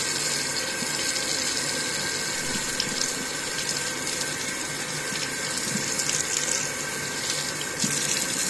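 A sink tap runs steadily while the stream is redirected with a spoon, producing a continuous splashing, hissing rush of water up close that stays even throughout with no voices.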